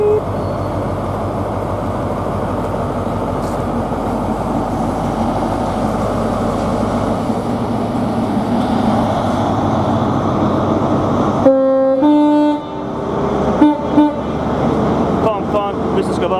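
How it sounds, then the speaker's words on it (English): LNER Class 43 high-speed train power car 43111 departing London King's Cross for Inverness sounds its horn: two tonal blasts near the end, the second shorter, over a steady station rumble. "43-111 departs London King's Cross for Inverness."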